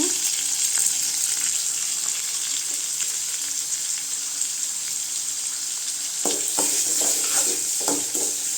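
Tomatoes frying in oil in a pan for a ridge gourd peel chutney, a bright continuous sizzle close up, with a few stirring clatters near the end and no talking.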